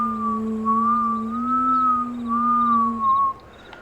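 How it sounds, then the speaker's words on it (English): A steady tonal whistle with a faint vacuum-like hiss, likened to a shop vac running outside, wavering gently in pitch for about three seconds before cutting off, moderately loud with no talk over it. "It almost sounds like a shop vac, but it's got like a whistling kind of to it."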